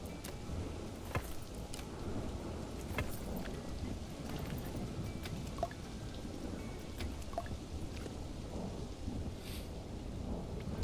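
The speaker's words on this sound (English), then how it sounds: "Here comes the storm." A thunderstorm in the Planet Coaster 2 video game brings steady heavy rain hissing throughout, with faint thunder rumbling underneath and scattered raindrop ticks, with no other sounds.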